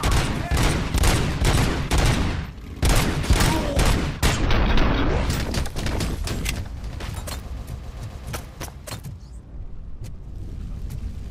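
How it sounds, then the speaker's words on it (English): Rapid bursts of gunfire and explosions fill a RoboCop: Rogue City firefight, loud and dense throughout with a brief lull before the shooting resumes. "Who's shooting at me, bro?"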